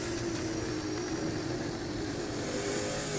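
A V8 Supercar engine in a racing game with a sound mod, during a 2021 VRL round at Sandown, roars in a steady, dense, close drone with no talking over it.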